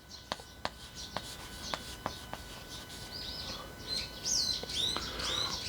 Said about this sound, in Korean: 지금 새소리 나는데 새소리